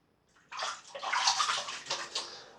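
Shaving razors rinsed under running tap water, a steady close splashing stream that starts abruptly and carries on with uneven sloshing for a couple of seconds.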